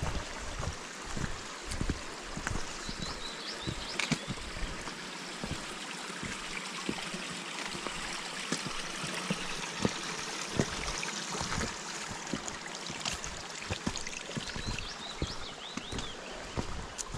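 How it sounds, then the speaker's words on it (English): A small stream trickles down a gill on Grange Fell in the Lake District, giving a continuous bubbling, splashing wash with scattered close drips and gurgles, steady throughout and no voices. "it seems to be more of a downward trickle of the gill"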